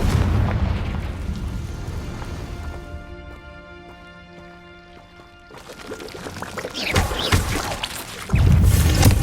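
Fiery Confringo spell explosion in the game Hogwarts Legacy, a loud rumbling blast that fades into a ringing tonal hum, then swells again into crackling bursts and a heavy final boom.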